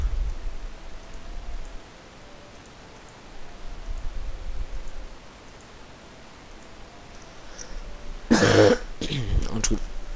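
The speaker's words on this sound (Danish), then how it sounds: "Undskyld, jeg hoster i den." Coughing and throat clearing from a person recording gameplay narration, a brief loud burst near the end over quiet background hiss, with no talk otherwise.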